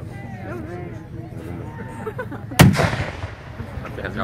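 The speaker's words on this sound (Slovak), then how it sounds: "streľba útočného dela doslova priklincovala povstaleckú obranu k zemi" An assault gun cannon fires a single loud, sharp blast with a rumbling echo during a Slovak National Uprising battle reenactment at Zemianske Kostoľany, while someone talks over the scene.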